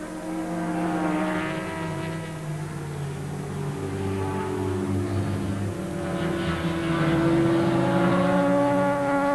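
Racing motorcycles scream past at Oulton Park during a 1991 British championship race, a steady high-pitched engine whine with shifting pitch sweeps, loud and continuous, and no talk audible.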